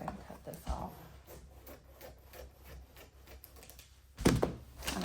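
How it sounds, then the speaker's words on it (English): Fabric for a Christmas stocking being cut with scissors, a series of soft close snips and rustles followed by a louder handling thump near the end. "Let me just go ahead and cut this off."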